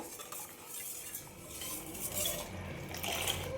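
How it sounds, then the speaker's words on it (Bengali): A utensil stirs hot milk in a pot to cool it while homemade doi is prepared, making a steady close swishing and scraping with faint metallic clinks, no voices. "আমি এভাবে নাড়াচাড়া করে এটাকে হালকা ঠান্ডা করে নিয়েছি"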